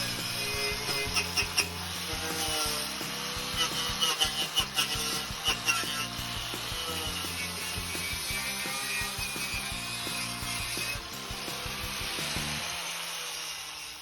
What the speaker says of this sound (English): it's out with the wire cut brush on the angle grinder to clean up this area of the chassis